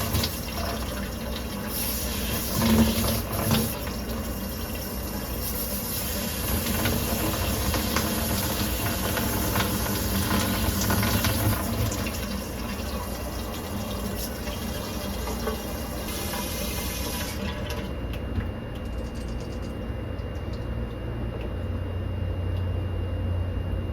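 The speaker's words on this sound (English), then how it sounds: "if that's draining, I mean, the water's going down" Water rushes steadily down a freshly snaked kitchen sink drain, a continuous hissing gurgle lasting about seventeen seconds before the flow changes and thins into a quieter, steady wash.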